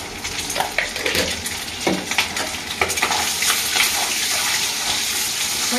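Eggs fry in oil seasoned with salt and turmeric for a red egg curry, giving a steady close sizzle with intermittent stirring scrapes and clicks throughout, and no voices.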